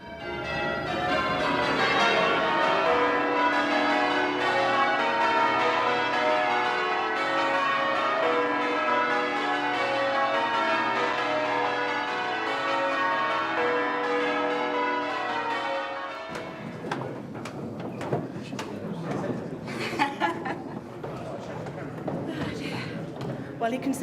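Church bells ring continuously in a dense, overlapping pattern during a change ringing competition, loud and sustained for most of the span before stopping abruptly, after which people talk.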